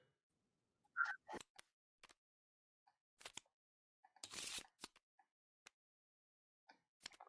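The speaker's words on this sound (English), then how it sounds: "Shuffling my action deck and tech deck." Decks of game cards for a Stellaris Infinite Legacy multiplayer board game being shuffled in a quiet room, heard as several short, soft riffling and tapping bursts with gaps between them, including a longer riffle in the middle.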